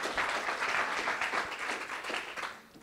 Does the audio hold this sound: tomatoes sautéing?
no